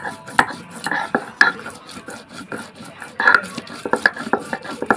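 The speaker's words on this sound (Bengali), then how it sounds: "আমি শিলনোড়ায় ডালটাকে নিয়ে নিয়েছি, তোমরা চাইলে মিক্সচারেও নিতে পারো। সেটাকে সুন্দর করে বেটে নেব একদম মিহি করে।" Soaked lentils being ground on a stone shil-nora slab for pumpkin flower fritters, a continuous close scraping and rasping of stone on stone with rhythmic strokes and occasional sharper clicks, fairly loud and alone.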